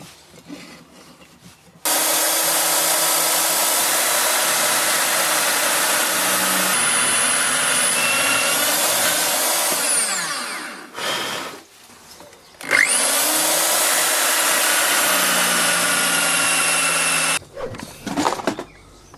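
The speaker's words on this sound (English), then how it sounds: "Time to drill through for the bolts that will go through into the wheel." A power drill bores bolt holes through a sprocket into a dirt bike wheel, with two long, loud grinding runs separated by a brief pause and trailing off at the end.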